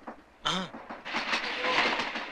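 A moving train runs on rails in a Tamil film scene, with rushing rumble and rhythmic clatter building after a sharp tonal cry, loud and close.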